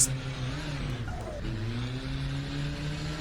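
A race car engine in a sim racing video game revs under light throttle in third gear as the rear end slides, a steady loud drone whose pitch dips and then climbs again midway.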